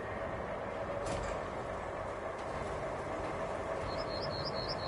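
Unconnected train wagons roll along rails in the video game RoadCraft, a steady low rumble with faint metallic clanks and a brief high squeal near the end, moderately quiet and without speech.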